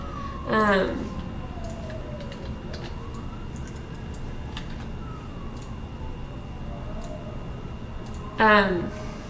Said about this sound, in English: You're hearing sirens from me.